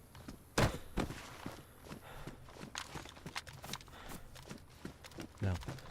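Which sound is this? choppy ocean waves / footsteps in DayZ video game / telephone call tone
footsteps in DayZ video game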